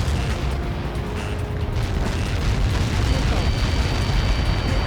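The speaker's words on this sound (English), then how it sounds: "How many got caught in that explosion?" A Helios projectile missile impact explodes in Ace Combat 7, a heavy, sustained roaring rumble that stays loud and continuous throughout.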